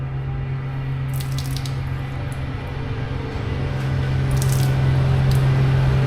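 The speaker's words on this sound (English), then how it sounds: "I'm just now able to wring any water back out of it." Soaked car wash towel being wrung out by hand, water squishing and splashing down steadily under a constant low hum, growing slightly louder toward the end.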